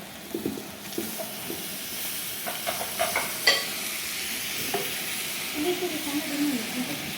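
Tomatoes frying in a pan for an aloo palya, with a steady soft sizzle, scattered stirring clinks and scrapes, and faint voices in the background.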